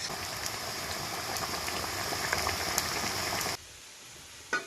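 Baby potatoes and shrimp frying in a pan give off a steady, dense sizzle at close range, which drops abruptly to a quieter hiss near the end, followed by a brief clatter.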